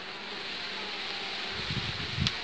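Honeybees at a recently split hive with queen cells give a steady, close, low buzzing drone, with a couple of brief louder swells of wingbeats near the end.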